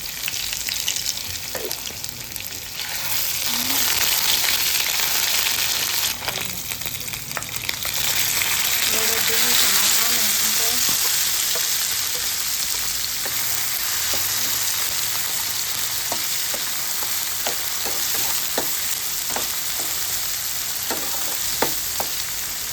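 Onion frying in hot oil in a home kitchen sizzles and crackles steadily, with sharp pops and occasional stirring scrapes throughout, no voices.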